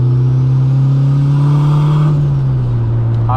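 A turbocharged 16-valve Mk2 GTS engine pulls hard while driving, a loud, close, steady drone that rises slightly in pitch then eases off near the end, heard from inside the car.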